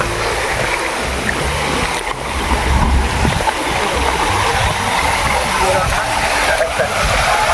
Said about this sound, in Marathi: अजून एक धबधबा आहे माझ्या इथे बघू शकता तुम्ही